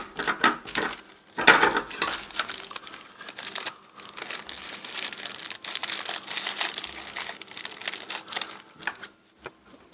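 Quick, dense crinkling and crumpling of a thin plastic carrier bag being handled and cut into flower shapes, close and loud, in rapid bursts with no talking.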